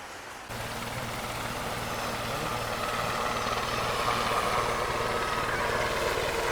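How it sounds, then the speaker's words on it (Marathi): A helicopter passes fast over a beach at Varsoli, Alibag, its steady low rotor thrum and engine drone loud and continuous, with broadband wind and surf-like noise throughout and no speech. "बघा तिकडून हेलिकॉप्टर येते जोराचं, बघा दिसतंय का तुम्हाला, किती फास्ट फास्ट येते"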